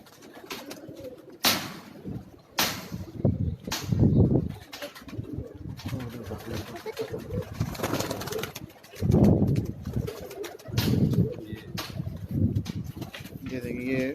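Silver-green pigeons on a rooftop in Karachi coo in low, throaty bursts, with occasional flutters and chirps, while people talk nearby throughout.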